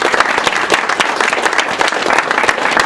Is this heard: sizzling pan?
no